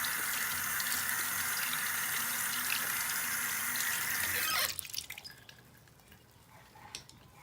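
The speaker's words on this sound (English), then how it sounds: "Then I take my soap and I'm just gonna rinse it." Tap water running steadily into a sink while soap is rinsed for makeup brush cleaning, a loud continuous gush that shuts off abruptly partway through, followed by faint drips and small handling noises.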